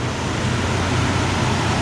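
A classic carbureted car without fuel injection idles steadily, giving a low, even rumble that stays loud and constant, with no voices over it.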